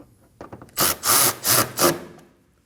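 Bolts being snugged down on a plastic windshield washer reservoir of a 2014-2024 Nissan Armada: a few faint clicks, then four loud rasping ratchet-like bursts in quick rhythm, close up.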